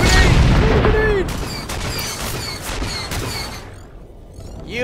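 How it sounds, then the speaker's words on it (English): A grenade goes off in Star Wars: The Old Republic amid a loud burst of blasts and gunfire, with a heavy opening boom that thins into scattered shots and crackles, a voice shouting briefly over it. "Throw the grenade!"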